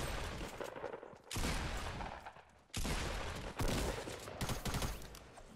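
Gunfire in a video game, with several long, dense bursts of rapid shots separated by short pauses, sounding faint and distant.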